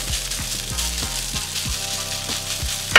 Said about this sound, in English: Just mix it up, melting that butter in there.